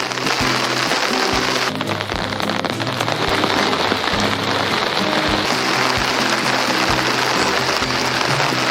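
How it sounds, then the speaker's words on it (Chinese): Heavy rain pours steadily onto a tent during an evening campsite meal in western Sichuan, a dense, continuous patter loud and close overhead with no talk. "外面下着雨，一起在帐篷里听着雨声享受美食"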